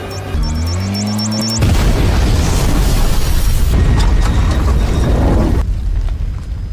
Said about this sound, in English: then a devastating explosion occurred